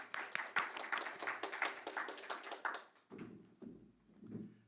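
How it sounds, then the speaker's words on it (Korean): At a Korean corporate governance awards ceremony, the audience claps to welcome KCGI CEO Kang Sung-bu; the scattered, quiet clapping fades after a few seconds, and a voice follows. "여러분들 큰 박수로 모셔보도록 하겠습니다"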